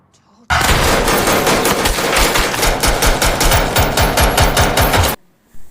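Police gunfire in a movie scene: a long, loud burst of rapid, evenly spaced shots for about five seconds, then silence with a brief thud after.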